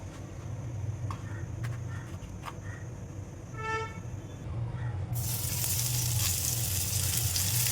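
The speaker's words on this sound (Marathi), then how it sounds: "रव लावून घेते म्हणजे तव्यामध्ये एका वेळी मी फ्राय करेन" Semolina-coated ladyfish frying on a tawa: a soft sizzle with light scrapes that swells into a loud, continuous hiss of frying oil partway through, with no speech.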